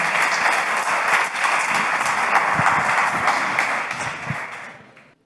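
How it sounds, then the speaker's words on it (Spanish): A studio audience at a Spanish business podcast applauds for a guest, a dense, steady wash of clapping that holds for several seconds before tapering off to silence near the end. "Vamos ahí, ese aplauso."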